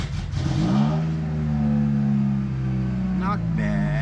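Honda Prelude project car engine turning over on a cold morning start and settling into a steady idle with light revving, a continuous near rumble, with brief voices chattering over it.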